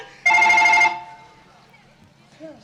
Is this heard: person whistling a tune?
no